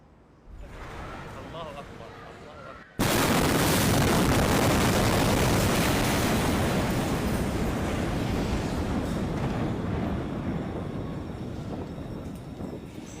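A massive blast in Beirut erupts after a few seconds of quieter background, a sudden loud broadband roar that stays heavy and rumbling, slowly fading over the following ten seconds.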